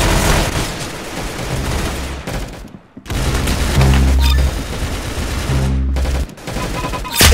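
Rapid automatic gunfire in the first-person shooter game Arsenal comes in loud sustained bursts with short pauses between them, dense and close, and no talk over it.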